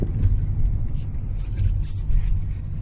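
A 2020 Toyota Alphard van fitted with an electric throttle controller drives along, its engine and road noise forming a continuous low rumble that swells slightly as it brakes and turns, with faint talk over it.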